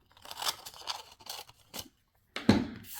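Scissors cutting a paper doily in half for a handmade card, a run of crisp snipping cuts in quick succession followed by a louder final snip and rustle of the paper, close and without talk.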